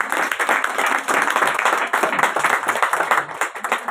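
Church congregation at an evangelical celebration claps together in a lively, rhythmic burst of applause, close and fairly loud, sustained for several seconds with slight surges.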